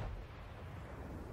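Naval gunfire shells striking targets in the World of Warships video game, heard as a continuous low, heavy rumble of blasts that holds steady for a moment with no voices.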